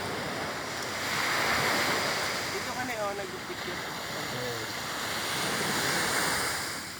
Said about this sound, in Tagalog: Nandito po kami sa tabing dagat.